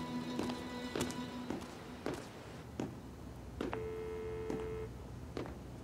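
A phone call being placed produces electronic telephone tones, a steady tone and a short higher beep, over light tapping and footstep-like knocks in a quiet room.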